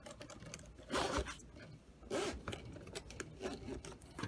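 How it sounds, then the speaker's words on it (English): Zippers on a DroneMask2 sleep mask are worked close up, giving quick rasping zip strokes in a few bursts with soft fabric rubbing and handling between them. "all you do is place the zippers right next to it"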